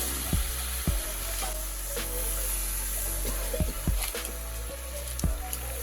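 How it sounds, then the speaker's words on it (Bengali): Water poured into a hot pot of Bengali chicken curry with potatoes, the pan hissing and sizzling continuously with occasional clinks of a utensil against the pot, close up. "জল দিয়ে দেওয়া হলো"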